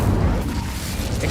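Incendio fire spell cast in Hogwarts Legacy, a deep, rumbling burst of flame with a heavy low-end whoosh that fills the moment loudly and sustains briefly.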